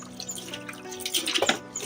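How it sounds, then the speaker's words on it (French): Water splashing and dripping while a rabbit nest box is rinsed, with irregular close wet spatters and trickles that grow busier toward the end. "Rincer la boîte à nuit proprement."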